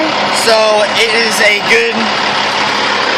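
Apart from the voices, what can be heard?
car engine idling steadily without surging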